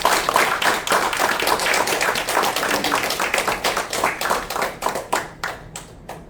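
An audience at a book concert claps to welcome the author, a sustained round of near, crisp applause that thins out toward the end.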